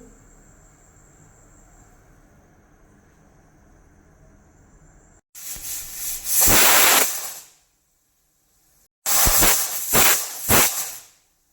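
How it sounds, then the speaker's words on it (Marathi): A pressure cooker on a medium flame, cooking goat head curry, lets out two loud bursts of hissing steam, each lasting about two seconds, after a quiet stretch of low kitchen background. "मिडियम फ्लेमला इथे मी सात शिट्ट्या करून घेणार आहे"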